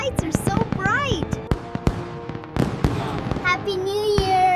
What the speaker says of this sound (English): Look at the fireworks, child.